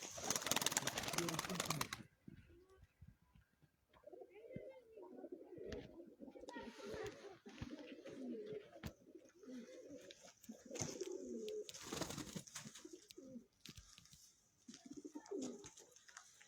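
Pigeons in five coops coo in soft, repeated low murmurs throughout, with bursts of louder rustling or flapping near the start and midway.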